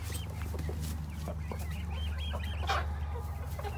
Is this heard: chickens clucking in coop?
yes